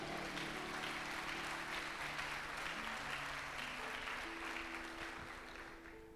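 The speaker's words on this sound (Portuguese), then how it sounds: "dá um glória a Deus e aplauda a Ele." Church congregation applauding together, a sustained dense wash of clapping heard from within the room that continues steadily and tapers slightly near the end, with a low musical drone underneath.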